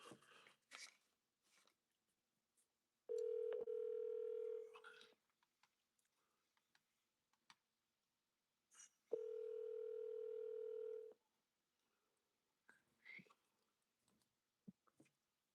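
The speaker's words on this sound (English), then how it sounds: "Alexa, call Double K. Calling Double K" A phone call rings out through an Alexa smart speaker: two long, loud, steady ringback tones spaced several seconds apart, with quiet clicks and faint sounds around them.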